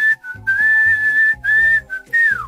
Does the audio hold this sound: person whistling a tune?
yes